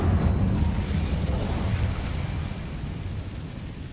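An Incendio fire spell cast in Hogwarts Legacy bursts out as a loud, rumbling fiery whoosh that slowly fades over a few seconds.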